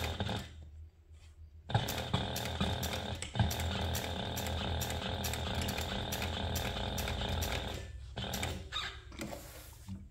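Sewing machine basting a zipper gusset onto a crossbody bag with a quarter-inch seam allowance, a loud close rattling run that starts after a brief pause, stays steady and then breaks into short stuttering bursts.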